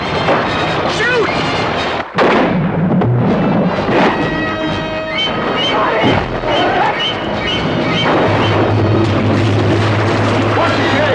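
Gunfire aimed at a shark in a film scene, loud and booming, with repeated blasts and churning noise mixed under shouting voices throughout.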